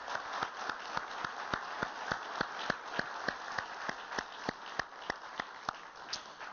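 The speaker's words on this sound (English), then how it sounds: "Let's give them one more time a big round of applause." Applause for Kenney Gamble and Leon Huff at an SLS LUX Philadelphia hotel event, heard as sharp, evenly spaced claps from a few hands over a low, quiet background.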